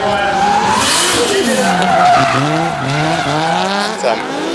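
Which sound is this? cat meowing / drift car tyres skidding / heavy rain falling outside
drift car tyres skidding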